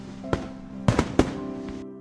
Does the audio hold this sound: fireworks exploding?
yes